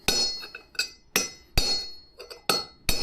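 A big mallet strikes a front wheel bearing on a Mercedes 410D van in firm, separate taps with short ringing metallic clinks, about six blows spaced irregularly up close, with no talking.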